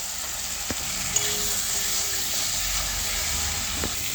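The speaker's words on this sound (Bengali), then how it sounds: "মশলাটা কষে নেব সেদ্ধ করা রেখে আলুগুলো দিয়ে দেবো এবারে" Boiled potatoes fry in a spice masala in a pan, with a steady close sizzle and hiss and a few faint clinks of stirring.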